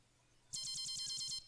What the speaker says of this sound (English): My phone's alarm is always so loud.